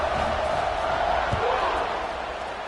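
A college football stadium crowd murmurs and roars steadily just before kickoff, a dense continuous wash of many voices with a faint thump partway through.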